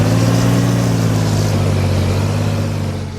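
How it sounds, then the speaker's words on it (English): Farming Simulator 15 forestry skidder engine running loud and close, a steady droning hum that gradually drops and fades as the revs come down. "Now I turn the engine down."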